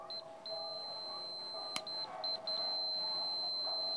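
A refrigerator defrost timer gives faint, repeated high electronic beeps in short irregular bursts that merge into a steady tone near the end, over a quiet background hum.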